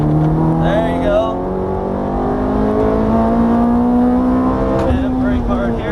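A Ferrari F430 on a race track accelerates hard, its engine pitch climbing steadily in a loud, close, continuous roar, with a brief shift or lift near the end.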